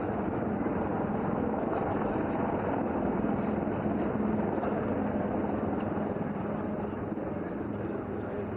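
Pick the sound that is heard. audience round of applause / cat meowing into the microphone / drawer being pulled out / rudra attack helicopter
rudra attack helicopter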